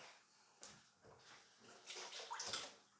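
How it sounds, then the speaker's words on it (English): Water from a kitchen sink tap splashing as a tool is wet down before shaping ciabatta buns, faint and brief with a few uneven sloshes, no talking. "I'm going to wet it down first in the sink."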